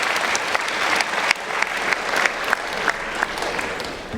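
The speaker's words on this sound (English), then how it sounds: "How about a round of applause for them?" A school convention audience claps for its leadership team, a sustained wash of many hands with a few sharper individual claps standing out, close and fairly loud.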